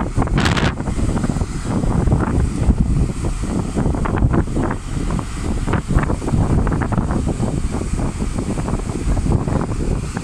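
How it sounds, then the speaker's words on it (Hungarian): Steady, blustery wind roars and buffets the microphone throughout, with a constant broadband rush and no voices. "Főleg ez a hideg szél."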